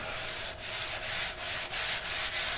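Close rasping strokes of a hand sanding block on a wooden urn, a steady scrubbing rhythm of about two strokes per second.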